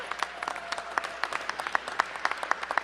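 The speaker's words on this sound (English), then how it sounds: "Let's give them a big round of applause." Audience applause fills a hall at a World AIDS Day event in Washington, DC, a steady crowd clapping with dense, sharp claps throughout, close and moderately loud with no talking.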